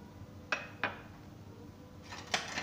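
Utensils clink and scrape against a bowl while spices, salt and green chillies are mixed. A few distinct taps are followed by a short burst of rattling.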